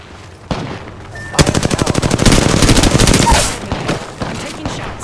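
Automatic weapon fire in the video game Apex Legends, a rapid loud burst of shots lasting about two seconds after a single sharp crack, then fading into quieter game sounds.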